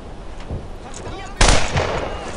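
Gunfire in the World War II shooter Brothers in Arms: Earned in Blood: scattered distant shots, then a loud close blast with rumbling echo and continued firing, with a voice speaking at times.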